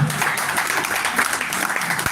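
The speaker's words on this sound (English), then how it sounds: "A round of applause for them, please." Audience at a health summit applauds its guests, a brief burst of dense clapping from a sizable crowd in an indoor hall.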